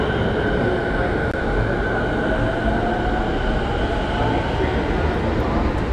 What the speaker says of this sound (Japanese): さあ、そろそろ列車の発車時刻です。